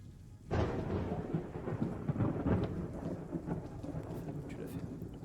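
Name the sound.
thunderstorm weather in video game Arma III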